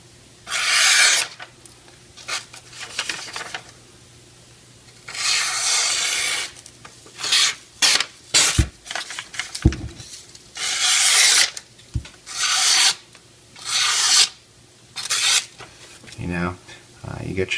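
An axe edge is sharpened with repeated rasping strokes, each a short burst of close, gritty scraping separated by brief pauses, in an irregular rhythm.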